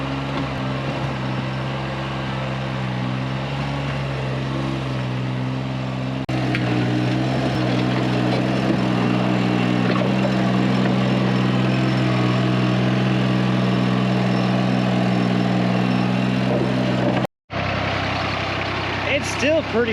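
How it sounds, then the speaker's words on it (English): A tractor engine labors through frozen ground while a foundation drain is dug in around a cabin in the woods, giving a loud, steady, close drone that barely changes for most of its length, with a brief cut near the end. "The tractor is definitely having a little bit of a hard time."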